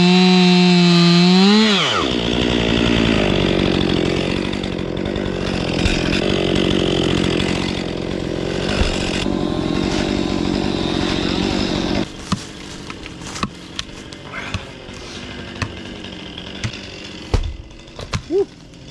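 A chainsaw cutting into a dead tree, its engine winding high then settling into a loaded cutting drone for about ten seconds before dropping to a rough idle with clatters and knocks.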